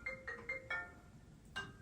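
A mobile phone ringtone plays a quick repeating electronic melody, several short bright tones in a row and then another after a brief pause, fairly faint over a low room hum.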